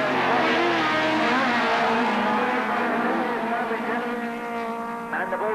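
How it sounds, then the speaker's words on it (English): A train of rallycross cars at Lydden Hill in 1985 roar round the North End hairpin, engines droning and shifting pitch together in one loud, sustained blare. "a train of cars round the North End hairpin and down Harry Hill for the first time"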